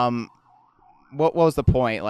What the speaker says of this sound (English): Apologies for the siren in the background.